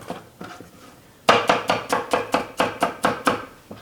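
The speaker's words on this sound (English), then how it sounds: "Okay, do some chopping right here." Fresh onions chopped on a cutting board: a knife strikes the board in a steady, fast, even rhythm of about a dozen loud, close thuds, with softer chopping just before.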